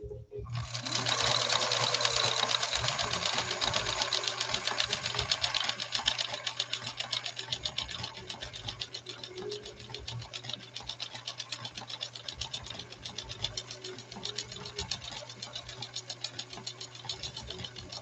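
A 1965 Husqvarna Viking 2000 sewing machine stitches steadily, a close, even, rapid mechanical chatter with a low motor hum that starts abruptly and runs on throughout, with no talking over it.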